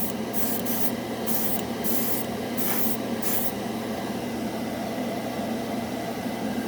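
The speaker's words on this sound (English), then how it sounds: "Heavy spray is the way to go." Close spray-can bursts of metallic paint in quick pulses over a constant hiss, several short sprays in a row followed by a steady, continuous spray.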